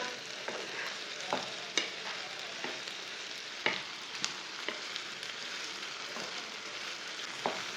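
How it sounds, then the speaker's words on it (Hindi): Chopped onion and okra frying in a pan, a soft continuous sizzle broken by sharp scraping clicks of a stirring spoon at irregular intervals, quiet and close. "तीन मिनट तक मैंने प्याज और भिंडी को भून लिया।"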